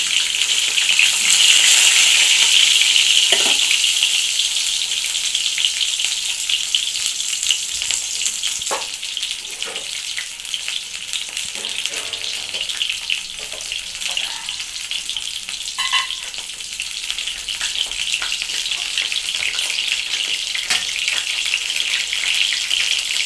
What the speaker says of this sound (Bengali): এরপর পটলটা একটু ভেজে নেবো।